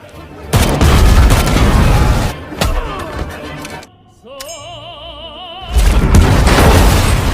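Loud booms and bursts of gunfire crash over a soundtrack, broken by a quieter stretch of sustained tones before the explosions return.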